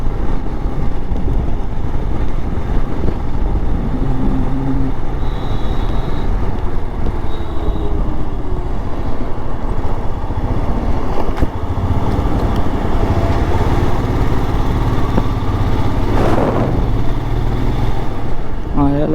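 Dense road traffic in Hinjewadi rumbles close by, with idling and revving motorcycle and car engines, a passing vehicle and a horn, while someone talks over the steady din.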